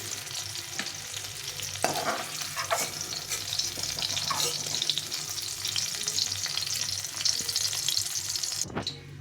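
Capsicums frying in oil make a constant close sizzle, with intermittent spatula stirring scrapes and a sharp clatter near the end.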